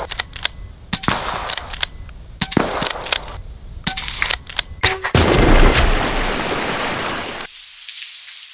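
An airgun fires several sharp shots at soda cans, each a crisp crack spaced about a second apart, followed by a burst of spraying, fizzing soda that cuts off abruptly.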